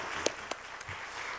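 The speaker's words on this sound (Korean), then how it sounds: "우리 목사님께 뜨거운 박수로 감사합니다." Church congregation at a Wednesday evening service applauds the pastor after an evangelism seminar talk, a faint, distant wash of clapping with a couple of sharper individual claps standing out.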